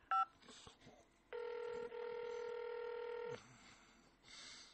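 A telephone keypad tone is pressed in an automated phone menu. A short beep comes first, then a long, steady tone lasts about two seconds, with faint line noise and voice fragments around it.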